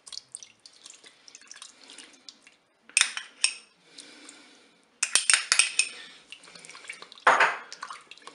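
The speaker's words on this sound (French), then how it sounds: "Je mélange tout ça." Spoon stirring tomato paste into duck legs inside a Cookeo multicooker pot, intermittent metallic scrapes and clinks in close bursts separated by short quiet gaps.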